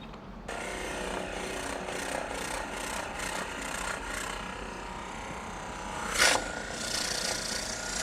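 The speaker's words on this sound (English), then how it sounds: "I'm probably only going to drill this one to a 1/2 inch" A drill boring into pecan wood with the bark still on while turning a small twig pot, giving a steady, close grinding rasp with a brief louder burst near the end.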